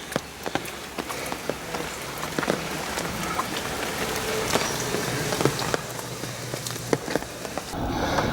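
Steady rain falls during an outdoor walk, a dense close patter of drops pelting surfaces with scattered sharper ticks, continuous and alone with no voices.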